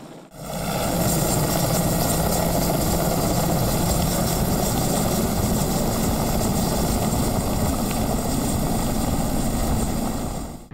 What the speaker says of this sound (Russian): был арендован вертолет 2-го Архангельского объединенного авиаотряда